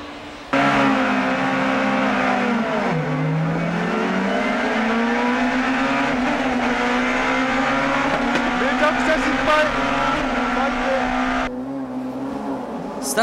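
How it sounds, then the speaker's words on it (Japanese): Twenty-eight touring cars of the 1994 JTCC round at Suzuka surge off the grid together, a loud sustained roar of engines revving and climbing through gears, with a commentator talking over the din throughout. "リタイアした1台を除き28台が一斉にスタート。"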